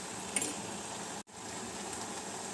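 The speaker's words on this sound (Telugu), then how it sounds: "దుంపలు క్యారెట్ ఇలా కొంచెంగా ఫ్రై అవ్వనివ్వాలి" Potatoes and carrots fry in a pan for a curry, giving a soft, steady sizzle with one brief dropout midway.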